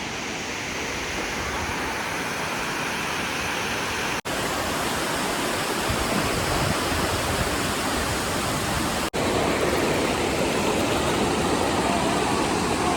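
Water overflowing from Vihar Lake at Powai rushes down in a loud, constant roar of churning flow, steady and unbroken apart from two brief cuts.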